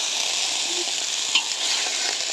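Rice noodles for pad thai frying in a pan with a splash of water, a loud, steady hiss of sizzling close by with a faint stirring scrape, no voices.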